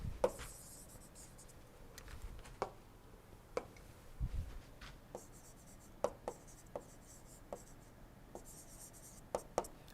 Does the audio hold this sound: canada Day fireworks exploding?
no